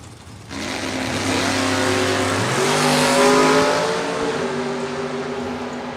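A Pontiac S10 pickup launches hard at a drag strip, its engine roaring up loud and close with a rising harmonic whine as it accelerates away, mixed with track ambience and no talk.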